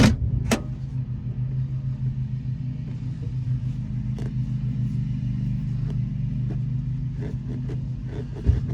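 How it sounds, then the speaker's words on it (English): 1979 Ford F-150 Midas Edition running, a steady low rumbling idle throughout with a few faint clicks, close by and with no talk. "So let's see if she runs. Throttle a couple times."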